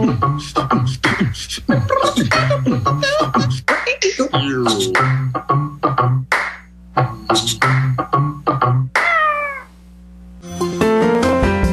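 A house cat meows repeatedly and insistently indoors, loud and close, in a rapid run of varied, wavering calls with brief pauses.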